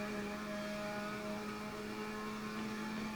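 A tuned Mazda RX-7 rotary engine in Assetto Corsa on PS5 at the Nordschleife holds a steady, buzzing high-rev drone, fairly quiet and constant with no voices.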